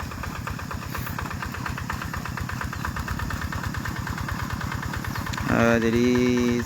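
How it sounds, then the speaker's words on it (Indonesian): A tractor engine runs steadily while plowing a rice field in Enrekang, giving a continuous pulsing chug at close range that rises in pitch and revs up near the end. "Jadi seperti inilah cara pemakaian traktor menggunakan mesin traktor."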